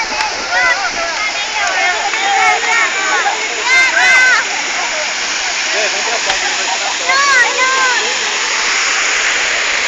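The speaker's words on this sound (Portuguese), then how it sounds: "Olha isso, um jato d'água incrível." A powerful fountain water jet in Parque de las Fuentes in Lima, a steady loud rushing splash, with birds chirping nearby throughout.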